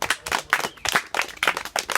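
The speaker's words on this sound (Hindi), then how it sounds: "ताली बजाओ इनके लिए।" A group of village children clap together at an outreach session, a quick, loose burst of handclaps at close range, fairly loud and unaccompanied by talk.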